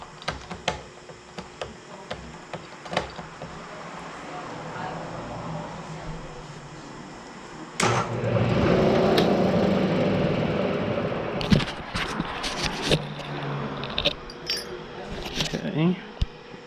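A Bridgeport milling machine head, on an old abandoned mill being restored, runs with a steady mechanical hum from about eight seconds, with clicks and knocks of handling before and after it.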